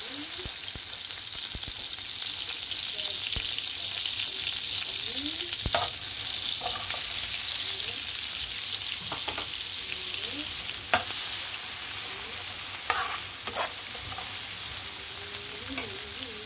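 Chicken liver fries in Star margarine in a pan, a constant bright sizzle and hiss with scattered spoon scrapes and taps while the pieces are stirred, close and steady throughout.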